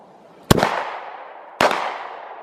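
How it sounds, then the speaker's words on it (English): Two sharp gunshots ring out outdoors about a second apart, each with a loud crack followed by a long decaying echo, with no talking. "Oh, you're shooting at that little dilly bob, huh?"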